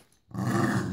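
Two dogs fighting at close range, with loud, continuous snarling and growling that bursts in suddenly after a brief quiet moment.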